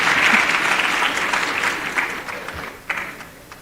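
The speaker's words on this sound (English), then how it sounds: "Let's give ourselves a round of applause" Loud, dense clapping from an audience at a memorial lecture, sustained for a few seconds and then starting to thin out toward the end.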